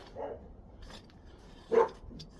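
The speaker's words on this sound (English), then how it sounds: "dog's barking" A dog barks faintly in the distance, two or three muffled woofs, the last one somewhat louder, over low background noise.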